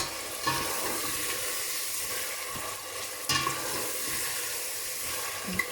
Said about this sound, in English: So I will stir that for a minute or two.